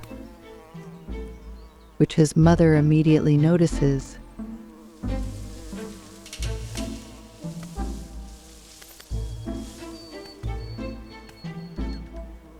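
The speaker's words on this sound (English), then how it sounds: "he is struggling with a wasp" A wasp buzzes close around a wolf cub in the wild, a loud burst of insect whine for about two seconds, followed by quieter ambient sounds while a narrator talks.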